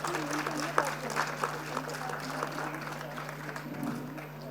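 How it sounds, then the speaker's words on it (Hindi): An audience at the first session of the Arya Mahasammelan 2025 convention in Himachal Pradesh applauds, a fairly soft, steady patter of many hands with a low hum and a voice talking over it. "आप सभी से आग्रह रहेगा कि तालियों का योगदान ज़रूर दें।"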